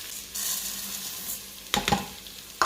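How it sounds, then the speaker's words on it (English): Garlic sizzling in oil inside an Instant Pot, a steady soft crackling hiss with a couple of louder stirring clatters toward the end. "There you go, sizzling in there."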